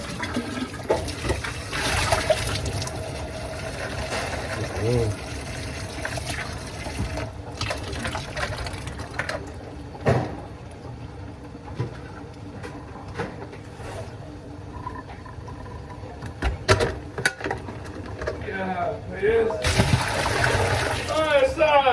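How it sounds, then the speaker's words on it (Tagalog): Water sloshes and drains after washing in an office kitchen, with a continuous running and gurgling wash, occasional splashes and clanks, and people talking intermittently. "Tapos tatanggalin ko na yung tubig para malinis na siya ng malinis."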